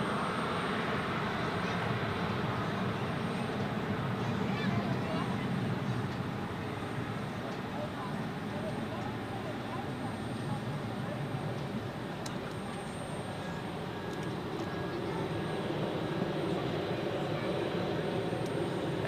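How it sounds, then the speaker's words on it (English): Icelandair Boeing 737 MAX 9 jet taking off from runway 16 at Zurich Airport, a sustained distant engine rumble and hiss at moderate level, steady throughout with slight swells. "Iceland Air is today taking off on 16 as it looks. The Boeing 737 MAX 9 today"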